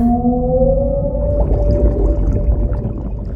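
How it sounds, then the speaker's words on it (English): An eerie, voice-made underwater sound effect for a swimming video game drones and warbles in long, wavering tones over a murky, bubbling low rumble, loud and without speech. "using my voice to create a terrifying sound effect that plays when you're swimming around at random times"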